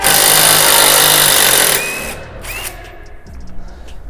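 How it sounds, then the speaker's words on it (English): An impact wrench drives an 18mm socket on a strut bolt of an A90 Toyota Supra, a loud, dense continuous burst that runs for under two seconds and then cuts off, leaving quieter workshop noise. "next we're taking an 18mm socket right here and we're gonna impact"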